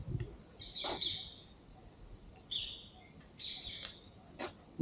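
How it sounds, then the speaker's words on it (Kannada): Birds call at Shivamogga zoo in a few bright bursts of chirps and whistles, some overlapping, heard at moderate distance with quiet gaps between them and no talking. "ಬರ್ಡ್ಸ್"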